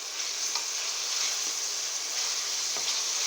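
Oyster mushroom stems sauté in a hot pan with a steady, close hiss of sizzling oil, broken by a few soft stirring scrapes and no voices.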